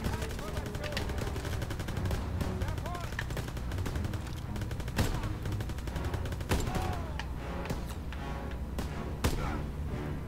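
Dense, continuous gunfire from the World War II shooter Call of Duty: WWII, with rapid machine-gun bursts, scattered single shots and occasional heavier thuds layered under a busy battle mix, with voices faintly audible at times.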